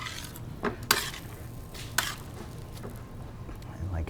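Cacio e pepe pasta is stirred in a pan, with soft wet squishing and a few sharp clinks of a utensil against the pan, heard up close with faint background noise.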